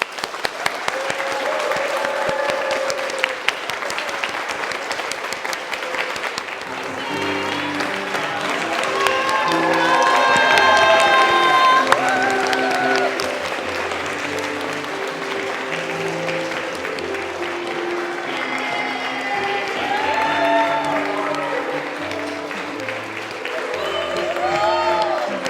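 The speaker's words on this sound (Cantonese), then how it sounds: "咁我哋用圍住喜樂嘅心，用熱烈嘅掌聲恭喜 Wing 同 Charlie" Warm applause from a gathered audience congratulating a couple at a blessing ceremony, steady clapping that swells and continues for a long stretch, with music and voices mixed underneath.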